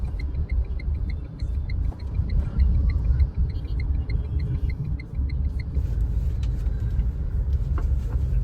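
A Tata Punch three-cylinder engine rumbles low and steady from inside the cabin in heavy traffic, with a soft ticking indicator and a gentle rise as it accelerates.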